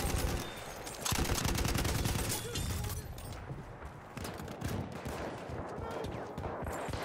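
BAR automatic rifle fire in Battlefield 1 multiplayer, loud dense bursts of rapid shots layered with other gunfire and explosions, close and continuous.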